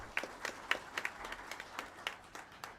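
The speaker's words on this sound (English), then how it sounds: "please give a round hand or applause to him" A seminar audience at a chartered accountants' branch meeting applauds in a quiet, steady patter of many hands, heard from a distance and without talk.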